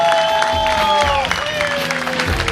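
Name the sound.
comedy club audience applauding a comedian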